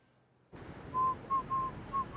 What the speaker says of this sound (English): He's the only one that whistles in this show.